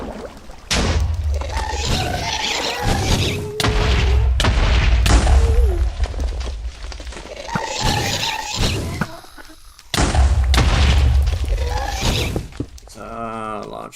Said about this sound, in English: Larger than usual explosions